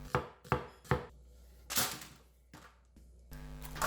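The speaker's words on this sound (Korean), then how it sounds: "양파는 슬라이스 해놓았어요." A knife slices an onion on a cutting board in a home kitchen, making a series of sharp, close chopping thuds in an uneven rhythm, about seven distinct cuts with brief pauses between them.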